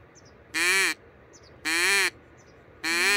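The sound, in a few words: duck call imitating duck quacks, made in Iran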